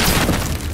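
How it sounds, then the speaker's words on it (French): A loud, close grenade blast booms and rumbles through a short burst in the video game Battlefield Hardline, filling the whole clip. "Grenade!"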